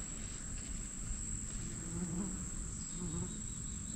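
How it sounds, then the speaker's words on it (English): Small sweat bees buzzing around an outdoor hot-weather camp, a faint continuous insect drone with a high whine layered over it, soft and steady throughout with no voices. "Now we're going through the sweat bees."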